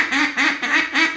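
A Duck Commander duck call, assembled by hand, blown in a rapid series of about four nasal, raspy quacks, loud and close with no one speaking.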